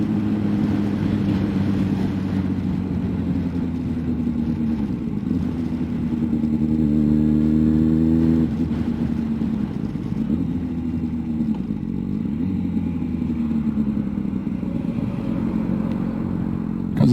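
A 125cc motorcycle rides on a wet road, its single engine droning steadily with a rising rev in the middle, loud and close, with road and wind noise throughout.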